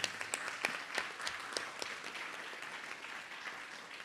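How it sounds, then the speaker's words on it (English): Audience applause at a community event on fighting white supremacy and state violence, a dense, steady patter of many hands that holds at a moderate level throughout, with a few sharper claps standing out. "Give yourselves a round of applause for being a part of this beautiful event and making it possible."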